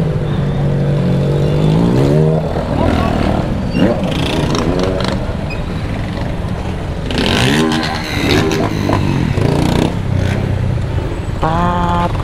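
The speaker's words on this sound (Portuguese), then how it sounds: "Poxa, tem muita moto" Motorcycle engines roar past one after another, revving and whining at close range in a busy, continuous stream of traffic.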